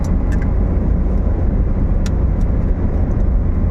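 A car driving along an empty highway, a loud steady road and engine rumble from inside the vehicle, with a few faint clicks and no talk.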